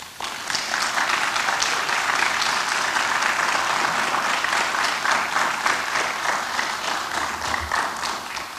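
An audience at a poetry reading applauds to welcome poet Nikky Finney, with steady, full clapping that holds loud throughout before easing slightly at the end.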